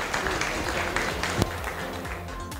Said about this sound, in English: And big round of applause for Robert.